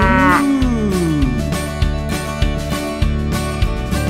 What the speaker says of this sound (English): It's a cow. It's a cow.